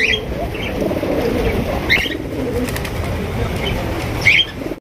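Pigeons kept for sale as breeding pairs coo softly and flap their wings in short bursts, with a few brief chirpy calls standing out over a steady low murmur of birds close by.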